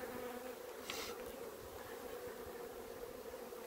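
Honey bees buzz steadily at an opened hive, a close continuous hum with a louder pass from a single bee near the start, no voices.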